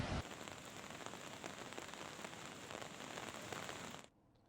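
Heavy, steady rain pours in the Yamuna valley of Uttarakhand, a dense continuous hiss of drops hitting surfaces with no voices, cutting off abruptly near the end.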